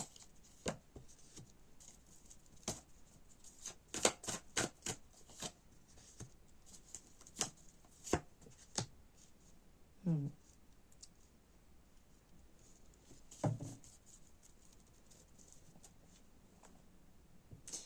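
Tarot card decks being handled and shuffled nearby, with a string of sharp riffling snaps and soft card slaps spread unevenly over a quiet background, and a few heavier shuffles in the middle.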